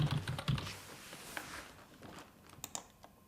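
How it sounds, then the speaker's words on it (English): Quick bursts of keystrokes on a computer keyboard, close and soft, a few rapid clicks at the start, then sparse taps with quiet gaps. "And I can type in serious incident."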